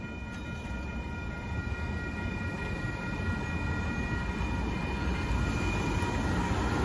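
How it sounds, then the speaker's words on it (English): A northbound Norfolk Southern intermodal freight train rumbles steadily past nearby in south Austin, Texas, a loud continuous roar of rolling cars with faint high squeals, no voices. "There goes that northbound Norfolk Southern intermodal train."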